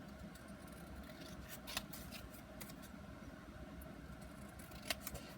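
Scissors snip paper to trim an envelope in a quiet room, with a few faint, spaced cuts and two slightly sharper snips standing out over the low background.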